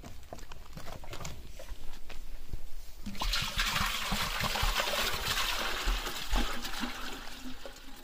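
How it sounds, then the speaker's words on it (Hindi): Water poured into a container before sodium metal pieces go in, heard as a splashing, gurgling pour that starts about three seconds in and continues steadily, with scattered knocks and clatter nearby. "तो अब मैं ये पानी इसके अंदर डाल लेता हूं।"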